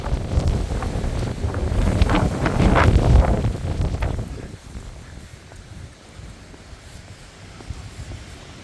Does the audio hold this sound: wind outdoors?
yes